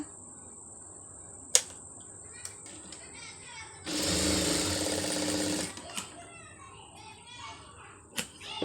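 A sewing machine stitches a piping joint on fabric in one steady whirring run of about two seconds mid-clip, framed by scattered light clicks and handling noises in a quiet room.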